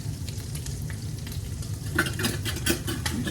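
Two cups of rice fry with garlic and ginger in a pan for Hainanese chicken, a continuous close sizzle broken by scraping stirring strokes that grow busier toward the end.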